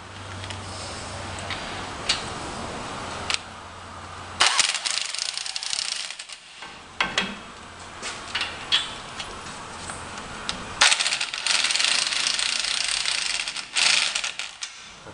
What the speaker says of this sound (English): I just use my impact to make it quicker.